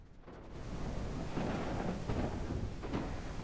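Steady heavy rain in the survival video game No One Survived makes a dense, continuous hiss that stays loud and even throughout, with no voices.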